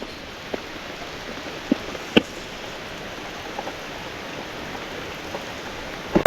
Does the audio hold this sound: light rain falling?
yes